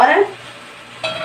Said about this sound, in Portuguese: escutou o barulho da carne fritando